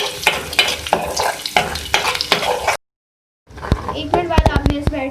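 Onions frying in a pan with whole spices for khare masalay mash ki daal, a broadband sizzle with scraping stirs, broken by a short silent gap before louder clattering of a utensil against the pan.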